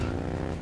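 Motorcycle engine in the video game Beyond: Two Souls, a steady low idling drone, close and fairly loud, running alone for a brief moment.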